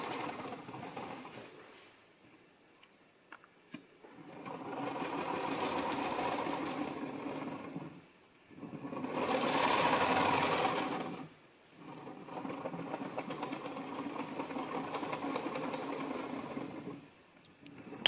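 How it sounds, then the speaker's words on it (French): Small wheels roll along a homemade camera slider rail in repeated passes, a whirring, rumbling run that swells and fades with brief pauses between strokes, fairly faint and with no talking. "on entend le bruit des roulettes"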